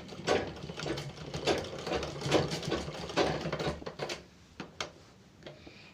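A domestic sewing machine stitches fabric in a quick run of rhythmic needle strokes, then slows into a few separate, fainter stitches toward the end.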